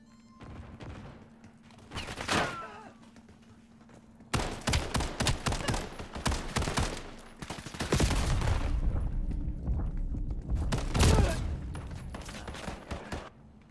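Video game gunfire in Black Ops 7, bursts of rapid automatic fire and scattered single shots across a match, loud and close with short pauses between volleys and background game ambience.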